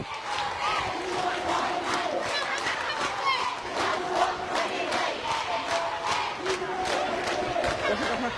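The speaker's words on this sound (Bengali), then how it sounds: "তারা কিন্তু ইডেনের শিক্ষার্থীদের লক্ষ্য করে কিন্তু স্লোগান দিচ্ছে" A large crowd of protesting students at Shahbag, Dhaka, demanding an end to the quota system, chants slogans in steady rhythmic bursts aimed at the Eden Mahila College hall, loud and continuous with no pauses.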